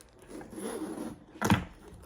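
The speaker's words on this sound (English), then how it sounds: "the actual zipper seems fine, but it's a rough zipper" A rough zipper on a Coach Revel purse is drawn in a short, close, scratchy burst after a stretch of faint rubbing.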